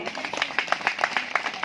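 Clapping from a gathering at a spiritual talk in Kanke, Arsande Sarna, heard as a short burst of fairly quick, uneven hand claps, moderately close.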